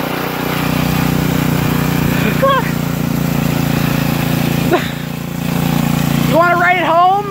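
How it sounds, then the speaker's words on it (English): A three-wheeler motorcycle engine fitted to a golf cart runs steadily nearby with a loud, constant droning rumble, while voices speak over it in short bursts. "three-wheeler motor on a golf cart"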